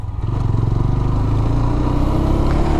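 A GPX Demon GR 165 RR motorcycle rides through city streets, its engine holding a loud, steady, throbbing drone with a slight rhythmic pulse for the whole stretch, close to the rider.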